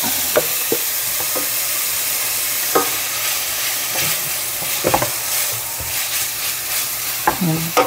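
A plant-based UnMeat burger patty, crumbled like ground meat, fries in oil with a steady close sizzle, broken by scraping stirs and light clinks of a utensil against the pan.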